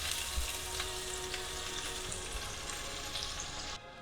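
Butter melting and sizzling in hot oil over fried onions in a pot, cooking mud crab chilli in North Queensland; a steady, close, loud frying hiss with crackles throughout, ending abruptly near the end.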